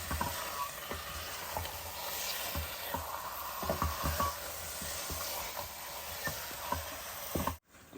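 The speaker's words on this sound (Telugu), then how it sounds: "ఇప్పుడు ఇందులో నేను మన కడిగి పెట్టుకున్న చికెన్ వేసేసుకున్నాను" Steady loud sizzling of washed chicken frying in a hot curry pan, with scattered stirring clicks and scrapes throughout, ending in a sudden brief cutout.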